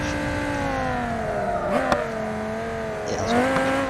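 Civetta Scintilla supercar with about 900 horsepower in BeamNG.drive, engine droning at high revs with two quick shift dips and brief tire chirps, steady and close.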